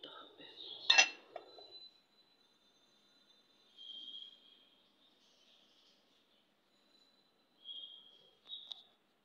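A lid is set on a cup of steeping whole-leaf green tea, producing one sharp near clink with a short ringing tail, followed by a few faint high tonal chimes in near silence.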